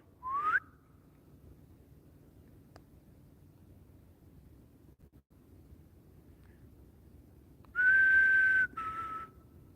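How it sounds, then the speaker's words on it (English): Someone whistles outdoors at night, with a short rising whistle at the start and a longer, louder steady whistle near the end, separated by a stretch of quiet background hiss. "I heard you whistle."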